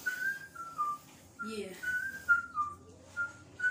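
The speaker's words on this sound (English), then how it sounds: "Let's make a whistle, y'all." A person whistles a simple melodic tune in short repeated phrases, clear and fairly close, with a brief spoken word breaking in midway.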